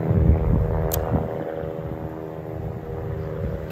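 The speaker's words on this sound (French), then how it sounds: "Attendre que l'hélicoptère passe." A helicopter passing overhead, a low steady rotor thrum with a droning hum that swells slightly and then eases, heard alone with no talk.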